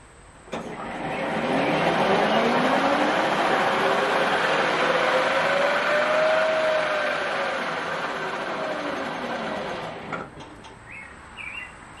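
Electric motor on a converted tractor spinning a wheel, a steady whirring hum whose pitch rises and then slowly falls as it winds up and coasts down, loud and close, cutting off near the end.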